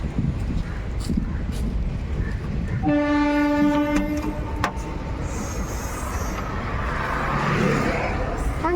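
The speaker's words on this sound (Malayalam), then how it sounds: "ട്രെയിനൊക്കെ പോണേ നമുക്ക് ഇത്ര അടുത്തുനിന്ന് കാണാം" A train rolls past close by near a railway station with a heavy rumble, and its horn blares once for about a second and a half partway through.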